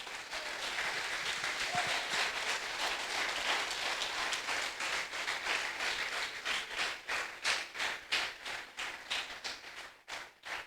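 A church congregation applauds during a sermon, dense, sustained clapping from many hands that thins toward the end into distinct, rhythmic claps.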